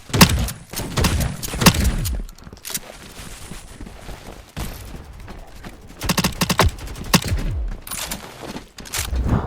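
Assault rifle and SMG fire in the shooter game Deadrop: repeated bursts of gunshots, some rapid and sharp, others thumping and muffled, with pauses and scattered impacts between volleys.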